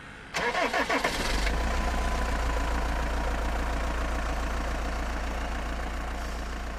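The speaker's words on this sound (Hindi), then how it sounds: "मैंने जल्दी से इंजन स्टार्ट करने की कोशिश की।" A bus engine in a horror story cranks with a few quick rattling turns, then catches and settles into a steady, loud low idle that rumbles on without pause.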